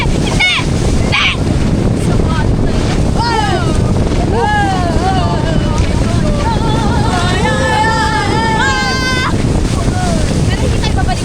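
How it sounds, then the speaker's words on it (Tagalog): A motorboat rides over waves, with steady loud wind buffeting and rushing water throughout. People shout and scream excitedly over it. "Nag-motor tayo, guys! Alon, alon, alon!"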